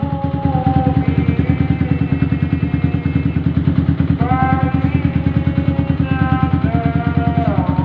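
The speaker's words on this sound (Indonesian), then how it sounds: "Kita akan hidupkan motornya." A Yamaha R15 motorcycle fitted with a 62 mm cylinder block idling after start-up, a close, rapid, even engine putter with a metallic clatter, while faint tonal whistles or voices drift over it.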